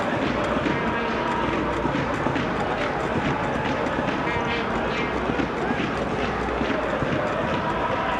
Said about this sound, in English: You can hear the Express fans singing and the drums going off.